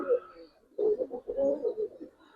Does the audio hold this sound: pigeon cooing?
yes